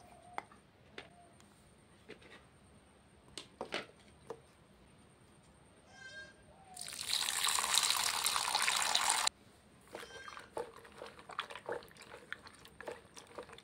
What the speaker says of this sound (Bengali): আমি 4-5 বার জল পাল্টে ধুয়ে নিয়েছি।